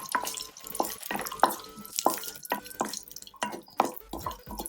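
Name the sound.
cashews roasting in a pan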